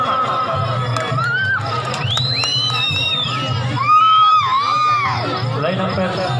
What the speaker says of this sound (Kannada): ಪ್ರೇಕ್ಷಕರು ಮತ್ತೊಮ್ಮೆ ಚಪ್ಪಾಳೆ ಹೊಡೆಯ ನೋಡೋಣ